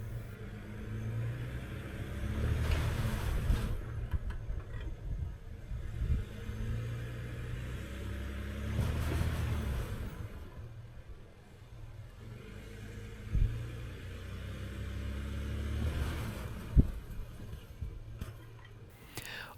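A truck stuck in slick spring slush revs its engine in repeated surges, low rumbling swells that rise and fall several times, heard faintly from inside the cab.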